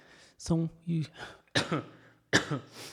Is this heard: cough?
yes